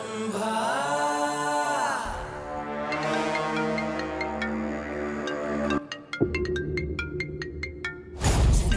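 A melodic phone ringtone plays loudly, a sustained tune followed by short repeated beeping tones, with no talking over it.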